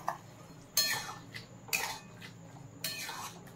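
Spoon scraping and clinking in a pan as poppy seed paste ground with green chillies is stirred into boiled potatoes, three short separate bursts against a quiet kitchen background.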